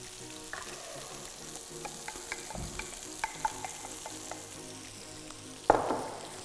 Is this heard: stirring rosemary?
yes